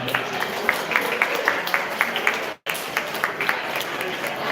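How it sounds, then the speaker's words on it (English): An audience claps steadily in sustained applause after a presentation at a brewery, briefly cutting out before the clapping continues at the same even level. "could we get a little round of applause for the presentation?"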